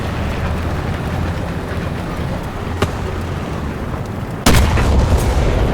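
A tank's main gun fires in War Thunder, a sudden loud boom near the end that cuts through steady engine rumble and battlefield noise.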